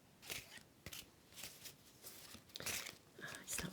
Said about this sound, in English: We'll just have a little shuffle and see.